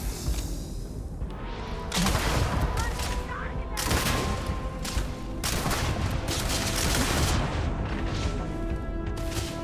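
Grenade launcher fire in the video game Starfield, a dense, continuous barrage of booming shots and blasts that fills the whole stretch at high loudness with little pause.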